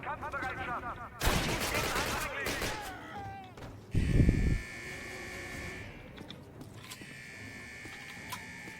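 Gunfire in Call of Duty (2003), with bursts of rapid shots and loud bangs alongside electronic game effects and a mechanical hum, while someone talks over it.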